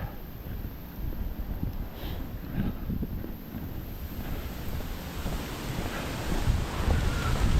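Continuous wind rushing and rumbling against the microphone during a night walk in Maine, steady and moderately loud, with no voices.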